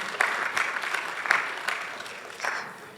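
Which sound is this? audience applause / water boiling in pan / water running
audience applause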